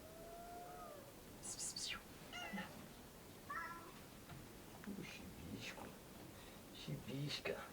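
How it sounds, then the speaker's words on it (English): A street cat meows several times in short, high calls spread across a few seconds, close by in a quiet outdoor setting, with faint whispered talk between the calls. "Yeah, I got a cat."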